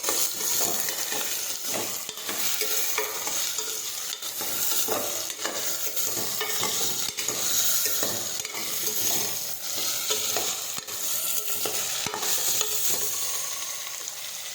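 Chopped brinjal, potato and pigeon peas sautéing in a pan, giving a steady, dense sizzle with frequent stirring scrapes throughout, close and continuous with no talk.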